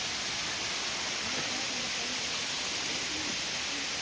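A waterfall in Mauritius pours in a constant, dense hiss and rush of falling water, loud and steady throughout, with no voices over it.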